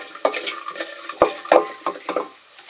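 Garlic frying in a pan while being stirred, with soft sizzling under a series of scraping, clinking strokes at an irregular rhythm, close and moderately loud, no talking.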